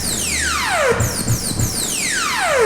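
A chiptune synthesizer sound effect with a medium-length pitch sweep: bright buzzy tones glide steadily downward in long descending sweeps, one after another, with a few low thumps partway through.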